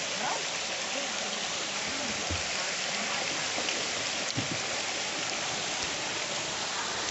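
Waterfall water rushing steadily at Sapaongot Falls in Ranao, Bani, Pangasinan, a constant broadband hiss like heavy rain, close and even throughout, with faint voices briefly under it.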